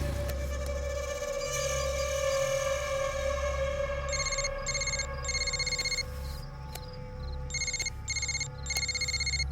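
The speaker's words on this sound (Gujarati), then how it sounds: "મનીષનો ફોન આવે છે." A mobile phone ringtone trills in short repeating bursts over a steady background hum in a film scene, starting partway through and sounding clear and close.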